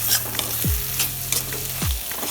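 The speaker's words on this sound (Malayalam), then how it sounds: "നല്ലതായിട്ട് ഇളക്കി യോജിപ്പിക്കാം" Spices and turmeric fry in a pan for Kerala-style egg roast, a close, steady sizzle punctuated by quick stirring scrapes and two low thumps of the spoon, with no talking.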